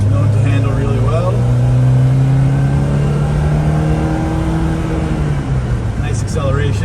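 A 1973 BMW 2002tii accelerates along a curvy road, its engine a steady loud drone that climbs in pitch, heard from inside the cabin from the passenger seat.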